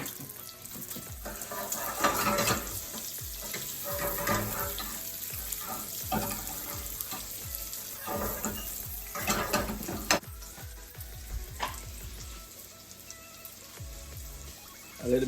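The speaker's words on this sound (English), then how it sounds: "I'm just gonna saute this onion" Chopped onion sautéing in bacon fat in a pan, a soft, continuous sizzle and crackle with scattered spattering pops and occasional stirring, fairly faint throughout.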